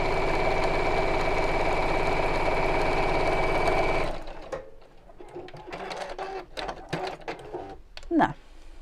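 A sewing machine top stitches a heart applique pouch with a close, rapid, even mechanical chatter for about four seconds, then stops, leaving soft handling clicks and rustles.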